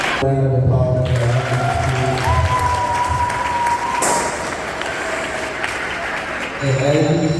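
Applause at a retirement party rolls on steadily as a dense, continuous patter of many hands clapping, with voices and occasional shouts mixed in throughout.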